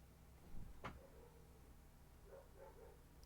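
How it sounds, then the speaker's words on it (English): A German Shepherd barks outside, far off and faint, in a short burst of two or three quick barks after a single knock, under a quiet indoor hush. "If you can hear the wild German Shepherd out there going nuts."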